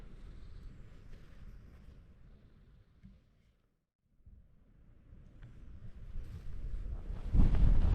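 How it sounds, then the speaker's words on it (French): Wind gusting down from a mountain pass on a hiking trail buffets the microphone, a low rumbling roar that fades to a brief lull, then builds louder toward the end. "il y a un peu de vent qui s'engouffre du col là-bas et qui arrive sur moi"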